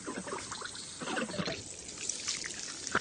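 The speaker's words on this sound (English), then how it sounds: "Those gurgling noises, believe it or not, are being made by giant earthworms as they squelch along their water-filled" Giant earthworms squelching along water-filled burrows make soft, irregular gurgling and trickling sounds, faint and wet, bubbling on and off throughout.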